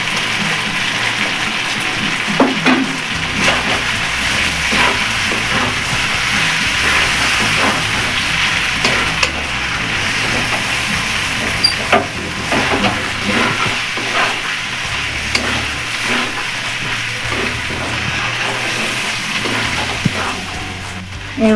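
Chicken liver and gizzard stirred and fried in a pan with egg bhujia: a continuous, fairly loud sizzle and hiss with repeated scraping and stirring strokes throughout, and no voices.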